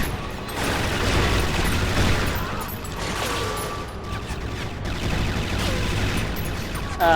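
A rapid-fire gun in the 007 Agent Under Fire video game fires long, loud automatic bursts that go on almost without a break, with mechanical clatter and a faint voice under them.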